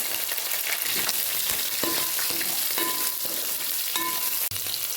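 Cumin, finely grated ginger and green chillies fry in hot oil for a rice rava upma, giving a steady, loud, continuous sizzle with scattered crackles and a few brief clinks of a spoon against the pan.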